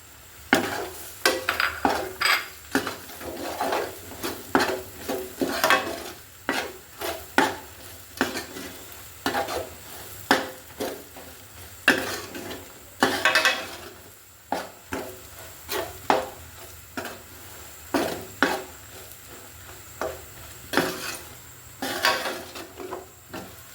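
Garlic being stirred into beef pickle in a pan on the stove, giving repeated scraping and clinking strokes of a utensil against the pan at an uneven rhythm, close and fairly loud, with no talk.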